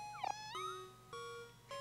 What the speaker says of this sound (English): I have to check the cat, that's just a given.